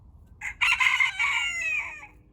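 A backyard chicken crows once from close by, a loud drawn-out call of about a second and a half that trails off, with no talking around it.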